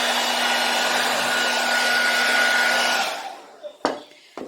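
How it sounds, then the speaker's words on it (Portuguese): A hair dryer on medium heat dries primer coating a bottle, whirring loud and steady for about three seconds before switching off, followed by a few brief knocks and handling sounds. "você pode acelerar a secagem com o secador de cabelo"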